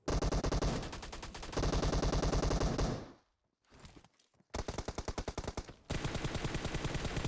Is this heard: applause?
no